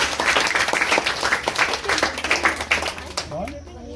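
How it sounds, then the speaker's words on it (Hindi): Children in a coaching-class classroom clap rapidly together at a science prize ceremony, a loud, close patter that thins out as a voice begins speaking near the end. "चलो सत्यम के लिए बार ताली बजा दो"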